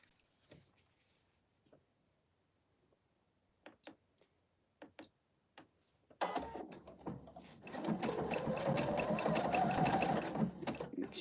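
A sewing machine stitching a decorative stitch on a fabric stocking ornament. A few faint clicks and taps come first, then the motor starts with a steady close whir that rises and holds, fairly loud.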